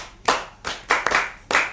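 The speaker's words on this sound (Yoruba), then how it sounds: "ẹ pàtẹ́wọ́ fún àwọn olùkọ́ yín." Schoolchildren clap for their teachers in four or five sharp, rhythmic bursts of group hand clapping, near and lively, with short pauses between rounds.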